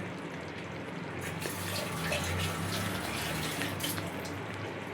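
A steady gush of water being poured into ground masala for chicken curry, a continuous close splashing flow lasting several seconds with no voices.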